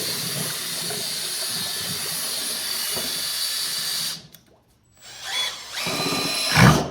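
Electric mixer churning sculpture mixing material, a steady loud drilling whine with hiss that cuts out briefly mid-way, then restarts and surges strongly near the end.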